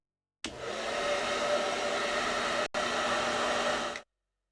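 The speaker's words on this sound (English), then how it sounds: "The hairdryer was perfect." A hair dryer in the video game Broken Sword: The Sleeping Dragon blows with a loud, steady whoosh, briefly cutting out for a split second before resuming, then switching off.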